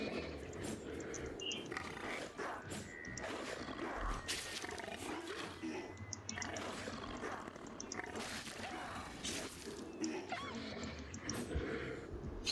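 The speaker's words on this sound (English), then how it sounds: "Those wolves that were looking for us." Wolves growling and snarling in the survival game Savage Lands, a sustained, loud, rough roar with bursts of sharper snaps, close and continuous throughout.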